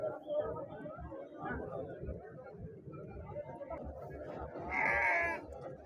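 Goats bleat now and then over a steady hum of crowd chatter at the Siddipet weekly livestock market, with one louder, drawn-out bleat standing out near the end.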